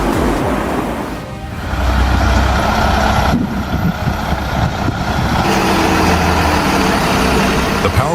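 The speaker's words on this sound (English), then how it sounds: "The powerful Volvo semi-truck is showcasing its strength as it conquers a dangerous curve with a load of up to 180 tons" A heavy Volvo semi-truck hauling a load of up to 180 tons works around a dangerous curve, its engine giving a loud, steady, low rumble that shifts in tone partway through and carries on without a break.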